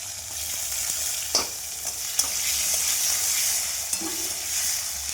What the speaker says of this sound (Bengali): টমেটোটা ভালো করে ভেজে নিলাম